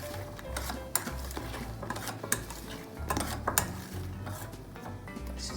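Eggless Dalgona coffee cake batter being mixed in a bowl with a utensil, repeated scraping and clinking strokes with a steady low rumble beneath, no talking.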